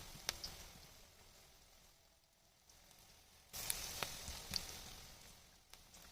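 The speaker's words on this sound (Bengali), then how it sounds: "সবগুলো ছোট ছোট করে দিয়ে দিচ্ছি তেলেতে।" Small cabbage pakoras crackle and sizzle in hot oil, a soft, steady frying hiss with scattered pops that swells louder partway through as more pieces drop in.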